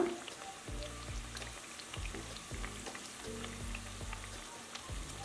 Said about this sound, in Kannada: ಲೋ ಫ್ಲೇಮಲ್ಲೇ ಕರಿತಾ ಇರೋದು